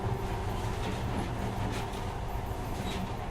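A monorail train in Metro Last Light runs with a steady, continuous low rumble and rolling rail noise, close and sustained without a break.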